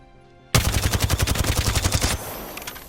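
Rapid automatic fire from the Vault weapon in the Apex Legends console game, a burst of about a dozen evenly spaced loud shots lasting under two seconds, then a trailing echo.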